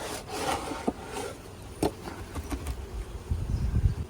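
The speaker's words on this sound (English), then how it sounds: "scraping any icky debris off the top board" A hand tool scrapes dried sugar syrup residue off a wooden beehive top board, giving close, uneven rubbing and scraping strokes with a few sharp knocks and a rougher burst toward the end.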